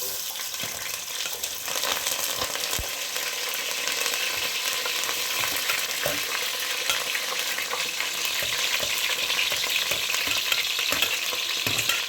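Onions, curry leaves and thyme fry together in hot oil for a culls curry, giving a steady, dense, close sizzle and crackle with scattered pops throughout and no talk.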